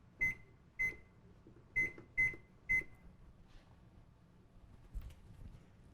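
A kitchen timer being set beside a pot of one-pot chickpea pasta simmering under its lid gives five sharp, clear beeps in an uneven rhythm, then only faint kitchen background remains.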